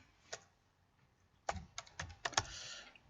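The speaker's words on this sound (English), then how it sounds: "I'll type VX print." Someone types a command on a computer keyboard, a few sharp isolated key clicks followed by a quicker cluster of taps, close and fairly quiet in an otherwise hushed room.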